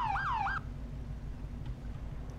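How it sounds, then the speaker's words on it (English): A police siren in the Farming Simulator video game wails briefly in two rising-falling sweeps, then cuts off, leaving a steady low engine rumble. "All right, let's turn the siren off."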